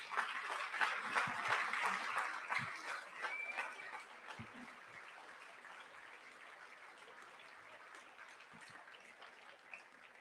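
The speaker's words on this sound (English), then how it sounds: "please stand and get a round of applause for all of your hard work" A room full of campaign volunteers at a governor primary watch party applauds, a steady, fairly faint patter of many hands that is strongest at first and slowly thins over ten seconds.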